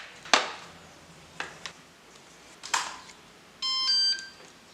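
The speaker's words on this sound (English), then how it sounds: "once you hear the beep, the transmitter is ready and the firmware has been flashed on it properly." A FlySky FS-i6X radio transmitter sounds a short electronic beep tone after a firmware flash, a clear, close half-second beep following a few sharp clicks.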